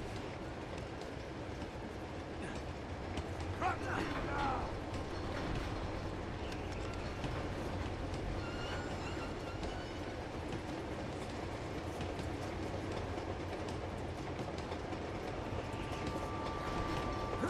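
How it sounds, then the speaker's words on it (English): A long train rolls along the rails in Uncharted 2: Among Thieves, a continuous low rumble with faint clickety-clack and occasional metallic squeal, fairly quiet and unbroken. "how long is this damn train"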